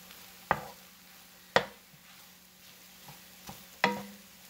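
Who hash with eggs is mixed in a pan, four or five distinct scraping clacks of a utensil against the pan spaced about a second apart over a faint, quiet sizzle.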